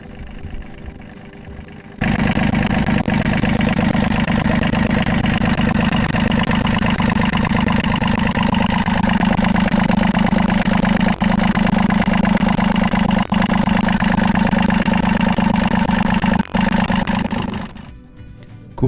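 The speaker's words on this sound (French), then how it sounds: "Redémarrez votre moteur." A Volvo marine engine on a sailboat, restarted after an oil change, idling with a steady loud drone that starts abruptly and runs evenly until it stops near the end.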